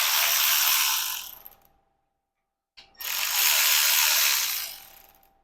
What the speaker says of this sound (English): flip the engine over and we're going to remove the connecting rods, pistons, pickup tube, and oil pump